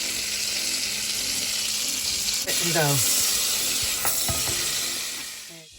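Half a stick of vegan butter sizzles steadily in a pan, a constant broadband hiss with a few brief clinks partway through, fading slightly at the end.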